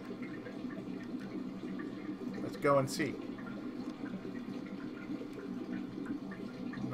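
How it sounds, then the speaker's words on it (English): Waterfall in the video game Xenogears: a steady wash of rushing water hisses through the whole stretch, with a voice talking over it. "here's the furthest waterfall"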